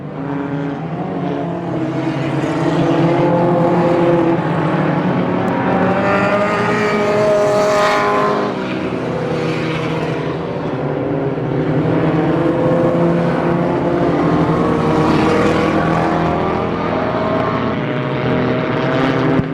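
Stock cars race around the Pearsonville dirt track during the Turkey Classic, a continuous loud roar of engines that swells and fades as cars pass, heard from trackside.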